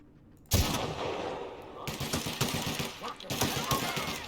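Sudden loud gunfire in the sci-fi role-playing game The Outer Worlds, rapid repeated shots and bursts after a quiet start, with a brief lull before more firing and some talk mixed in.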